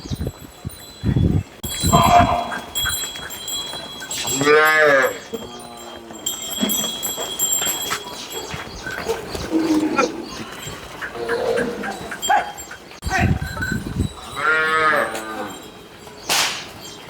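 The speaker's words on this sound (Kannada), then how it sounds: "ಆಕಳುಗಳೆಲ್ಲ ಆಗಲೇ ಹೊಕ್ಕಾರತ್ತೇಳಿ ಈಗೆಲ್ಲಾ ತಿನ್ನಾಕ್ ಹೊಂಟವ್ರಿ" Cows moo loudly twice, deep drawn-out calls near the start and end, with people talking and farmyard noise from sheep and calves between.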